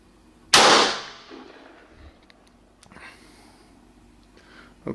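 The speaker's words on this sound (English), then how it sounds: "Now we'll shoot it right here." A single sharp, loud rifle shot is fired at a target from a gun fitted with a Hawke night scope, cracking close by and then decaying over about a second into quiet, with faint rustles after.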